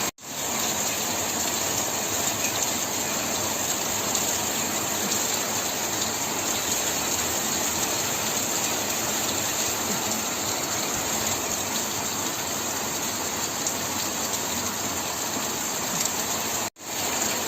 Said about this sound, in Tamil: எங்கள் ஏரியாவில் வந்து செம்மையாக வந்து மழை வந்துருக்குது.